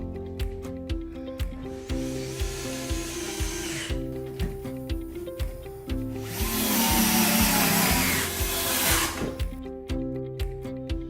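A power drill pre-drills holes in wood while cabinet and shelves are being built, with repeated short bursts of whirring and a longer, louder sustained run of bit grinding through the board, close up and without talk.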